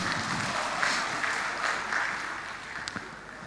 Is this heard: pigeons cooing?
no